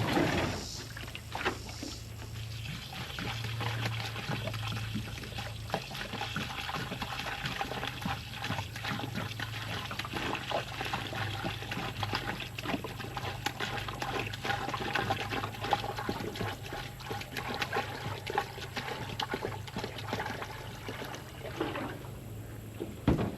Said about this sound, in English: Now I'm gonna pour it full of water.